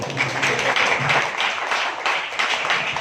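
An audience at a village youth organisation (Karang Taruna) event in Padangasri claps together in a dense, continuous burst of applause lasting a few seconds, fairly loud and close.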